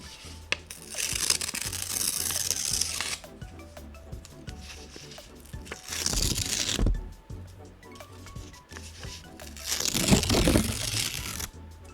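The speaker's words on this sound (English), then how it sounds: "I'm gonna tear more paper." Paper being torn in an ASMR session, with loud ripping bursts around 0–3, 6–7 and 10–11 seconds between quieter handling noises, up close.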